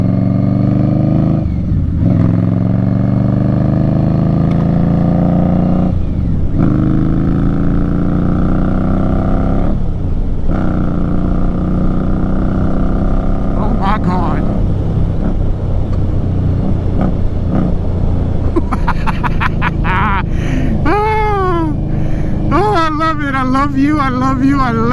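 A 2018 Indian Scout Bobber fitted with a Vance and Hines slash-cut exhaust pulls through repeated gear changes on a ride, its loud engine note rising and dropping between shifts, with a voice speaking over it.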